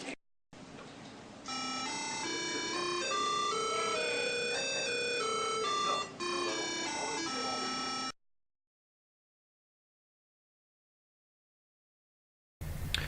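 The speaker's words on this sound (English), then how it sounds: "The microcomputer decides which sound to output and sends a square wave into the speaker" Bright, buzzy square-wave beeps from a microcomputer play a quick melody through a tiny speaker for several seconds, then stop into silence before a brief final blip.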